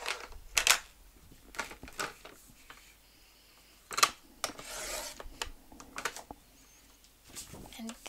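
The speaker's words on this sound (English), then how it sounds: "So I'm just going to trim the branding strips off to start." Cutting the branding strips off a 12 by 12 sheet of scrapbook paper, likely with a trimmer or cutter, gives a series of short rasping slices and rubs scattered unevenly through a quiet room.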